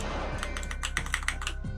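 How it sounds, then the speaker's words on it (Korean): Rapid, urgent keypresses on a computer keyboard during fast MapleStory hunting with a Dual Blade character, a close flurry of clicky taps and rattles in quick irregular bursts, with no talking. "제 긴박한 키보드 소리가 들리시나요 지금?"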